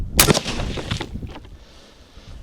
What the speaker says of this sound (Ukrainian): Цікаві результати від влучання з АР-15 цивільний набій FMG.